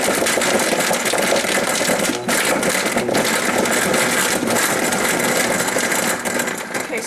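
A Vitamix blender churns fresh blueberries, cashews, frozen banana and a date with a pinch of salt, a loud, continuous grinding whir that holds steady throughout with only brief dips.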